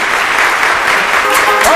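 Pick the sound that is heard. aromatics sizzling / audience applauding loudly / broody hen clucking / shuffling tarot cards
audience applauding loudly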